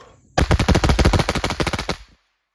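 A gun fires a test string of about twenty rounds in one rapid, unbroken burst that is loud and close, then stops abruptly.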